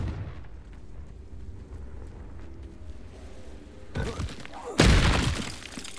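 A Confringo blasting spell in Hogwarts Legacy goes off with a sudden loud burst near the end, preceded by a brief shattering crack, over a low rumbling game background.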